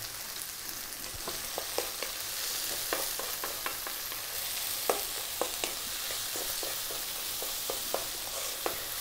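Tomato goes into a hot, sizzling pan for a vegan mushroom tom yum soup and is stirred. A steady loud sizzle runs throughout, broken by frequent light clicks and scrapes of the utensil.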